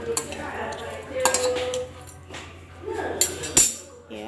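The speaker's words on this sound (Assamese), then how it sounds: "এতিয়া মই ভালকৈ লৰাই ল'ম" Metal utensil scraping and clinking in a pan as fish is stirred with turmeric and salt, a few sharp knocks and clanks over a low background hum, with brief talk in between.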